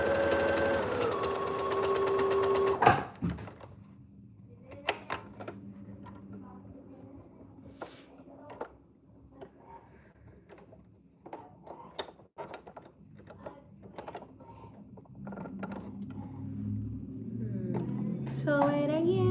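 A domestic sewing machine stitches fabric in short runs of rapid mechanical ticking, separated by pauses, handling clicks and a few quiet taps, close and moderately loud.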